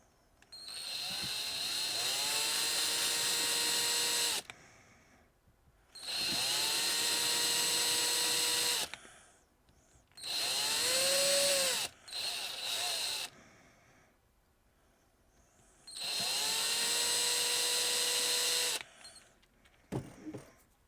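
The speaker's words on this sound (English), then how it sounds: "So I just basically drill into this." A power drill whines in four long, loud bursts separated by short pauses while drilling into a plastic toy figure, with a few brief stuttering pulses near the end.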